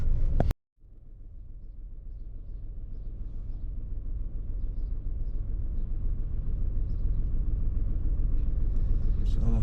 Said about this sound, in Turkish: sabah bol bol bir trafik var.